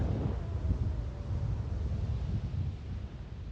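Strong wind buffets the microphone at a low coastal dune used for paragliding takeoff in Gyldendal, Denmark, blowing about 8 meters per second. The rumble is loud, low and continuous.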